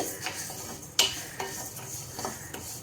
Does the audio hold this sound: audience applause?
no